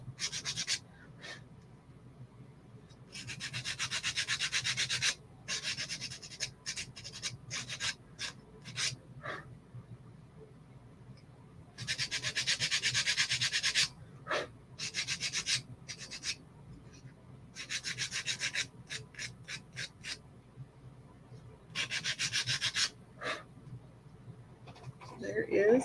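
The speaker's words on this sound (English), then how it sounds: "I'm just going to lightly sand the edges just to kind of expose some of that wood underneath." Sandpaper lightly rubbing the edges of a wood cutout in quick rasping bursts, some short and some sustained for a few seconds, close and clear in an otherwise quiet room.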